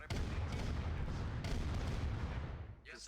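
Dense tank-battle gunfire from Command & Conquer: Red Alert Remastered, with heavy overlapping booms and cannon blasts rumbling steadily for a few seconds before trailing off.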